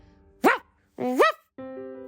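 A dog barks loudly in a Ukrainian audio tale, giving two distinct close barks followed by a steadier, more tonal sustained sound, with no talk over them.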